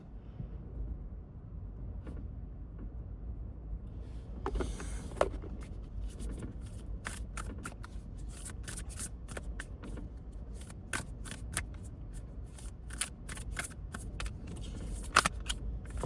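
A tarot card deck being handled, giving soft, close shuffling and flicking of cards with scattered sharp snaps and taps over a low steady background hum, quiet at first and busier after a few seconds.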